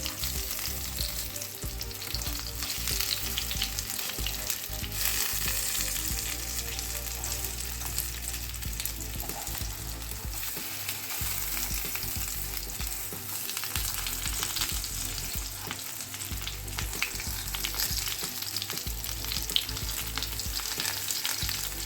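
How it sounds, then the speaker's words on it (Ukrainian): Steady sizzling of buckwheat patties frying in a covered pan over medium heat, a continuous crackling hiss that holds evenly throughout with no talking. "Смажу на середньому вогні."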